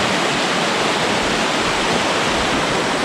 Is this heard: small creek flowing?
yes